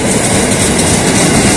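A commuter train on Jakarta's red line heads toward Jakarta Kota station, heard from inside the carriage as a loud, steady rumble with continuous wheel clatter.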